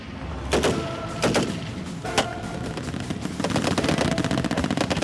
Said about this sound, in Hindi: वो गोलियों की बौछार जो हमलावर के दिल को दहला देती है।